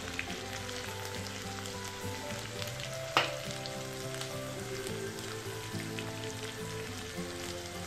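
Spices and masala sizzle steadily in a pan for a Rajasthani chana dal and raw mango curry, a dense even frying hiss with a single sharp clink partway through and no talking.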